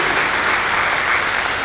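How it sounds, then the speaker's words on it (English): A school convocation audience at a kindergarten ceremony claps loudly to welcome the chief guest, a thick, even roar of applause sustained from start to finish with no talking. "I request all of you to give a loud applause and welcome our chief guest."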